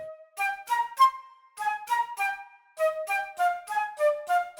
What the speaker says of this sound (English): With a flute staccato, it sounds really nice